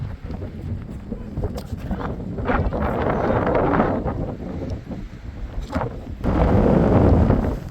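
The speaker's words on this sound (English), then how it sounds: "so windy out here." Strong gusting wind buffets the microphone outdoors in Arches National Park, a loud continuous roar that surges in bursts, with faint voices in the background.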